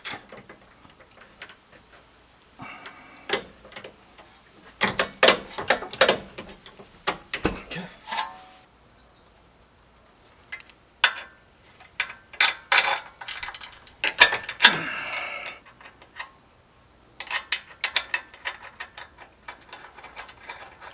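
Metallic clicks, ticks and washer rattles come in irregular bursts with pauses as an 18mm bolt with washers is hand-tightened during a Jeep JL 3.5-inch Metalcloak lift install, close up and fairly quiet, with no speech.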